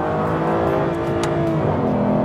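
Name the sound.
Aston Martin Virage engine, braking and downshifting to second gear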